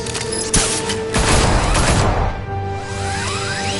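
Rapid bursts of gunfire from Batman: The Telltale Series erupt at close range, a dense crackling volley with crashing impacts that gradually thins out, over a steady game soundscape.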